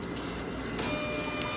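An Epson LQ-590 dot-matrix printer with a gear problem runs with a steady, dense mechanical whir and rattle, close and continuous, with no talking.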